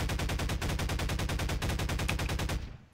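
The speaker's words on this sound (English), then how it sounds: "Shooting out this window." Rapid automatic gunfire shoots out a window in the video game Garry's Mod: a steady, loud stream of evenly spaced shots for about two and a half seconds, then it stops abruptly.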